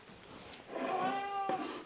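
A cat meows in a kitchen while egg-filled flatbread dough is being prepared, a single drawn-out, tonal mew lasting about a second, close and clear after some quiet handling noise.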